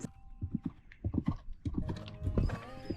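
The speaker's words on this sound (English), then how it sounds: "about to get on a horse" Horse hooves clip-clop in an uneven, close rhythm in a town setting in Auburn, Alabama, as someone mounts, with a brief whinny-like tone and some faint background voices.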